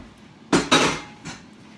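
Chicken pieces mixed with corn flour in a bowl: two sharp, close clinks of a utensil against the dish in quick succession, followed by a softer knock, with nothing else heard.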